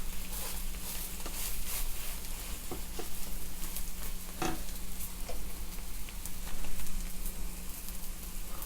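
Mushroom omelette frying in a pan just after being flipped, a steady close sizzle with light crackles and a low hum underneath, no talking.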